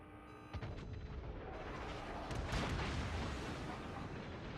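Battleship main guns firing a salvo in World of Warships, the Yamato battle: a sharp booming blast followed by a second heavier rolling detonation, distant and rumbling, with a low ambient roar throughout and no speech.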